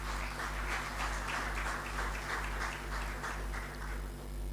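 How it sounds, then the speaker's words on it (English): Applause at a community meeting of Justices of the Peace: a room full of people clapping steadily and fairly evenly for several seconds, heard at moderate distance over a low electrical hum. "Let's give him another round of applause."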